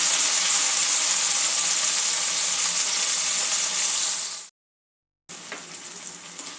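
Onion and chopped tomato fry in a pan with a loud, steady sizzle and hiss that runs unbroken for several seconds, drops out briefly, then resumes slightly quieter.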